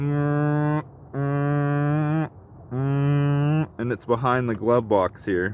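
A person vocally imitates the whining drone of a 2008–2022 Dodge Grand Caravan recirculation door actuator behind the glove box, giving three long, steady groaning tones before speaking briefly.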